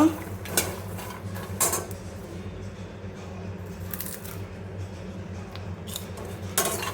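Makhana (fox nuts) are dry-roasted in a pan over a low flame: fairly quiet, close scraping and light rattling clicks come in irregular bursts as the nuts are stirred against the metal, with no talking.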